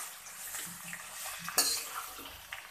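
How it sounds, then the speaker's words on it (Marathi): Chopped onion is stirred in a pan while being sautéed for egg biryani, with soft scraping and clinking of a utensil against the cookware, quiet and intermittent, one sharper clank midway. "हा कांदा आपण चांगला परतून घेऊया।"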